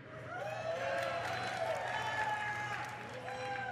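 A large BlizzCon convention audience cheers and shouts in a sustained roar, broad crowd noise with whoops and voices mixed in, swelling steadily through the whole stretch.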